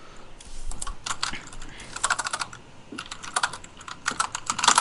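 Rapid bursts of typing on a computer keyboard, close and fairly loud, with irregular clusters of keystrokes and short pauses, alone without speech.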